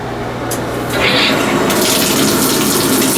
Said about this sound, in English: Alright, pressure seems fine, but aim the shower head away from me.